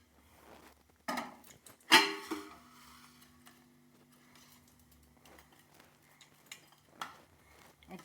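Fenugreek-leaf pakoras being stirred into a spicy curry in a pan, heard as a few sparse clinks and scrapes of a utensil, with one sharper knock near the start and otherwise quiet room tone.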